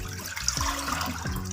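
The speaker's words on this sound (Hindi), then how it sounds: "1 लीटर हम पानी शामिल कर देंगे" About one litre of water being poured into an open cooking pot for chicken vegetable soup, a close splashing, gurgling stream with rising bubbling tones, steady throughout with no talking.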